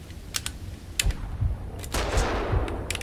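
Sharp gunshots from Max Payne 2: The Fall of Max Payne, a few quick cracks spaced across a few seconds, fairly loud over a low background hum with no talk.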